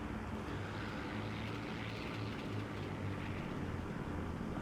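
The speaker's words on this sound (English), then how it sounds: "this guy's engine's just steadily dying at this point" Damaged WWII fighter engine dying in Scramble: Battle of Britain, a steady droning propeller hum with a faint rough pulsing, continuous and moderately loud, with no voices.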